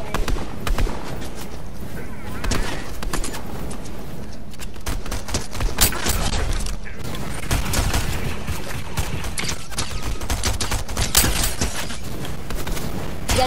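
Dense, continuous gunfire from a Fortnite match keeps up rapid bursts and booms throughout, loud and busy, with a voice or two mixed underneath.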